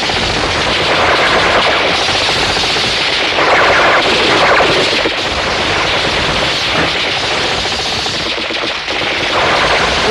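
Rapid, sustained gunfire from a firing squad in an old martial-arts action film, loud and dense for the whole stretch with no pauses.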